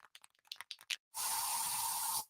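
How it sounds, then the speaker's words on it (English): Bug spray aerosol hissing in a home in an ad, a steady loud continuous spray burst lasting about a second after a few short clicks and knocks. "So you just used bug spray in your home."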